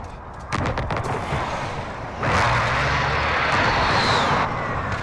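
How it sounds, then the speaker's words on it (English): Enemy precision airstrike in Call of Duty Modern Warfare 2019 on Arklov Peak: rapid bursts of gunfire give way to a loud rushing jet roar and explosive blast that sweeps overhead and fades. "Enemy precision airstrike, take cover!"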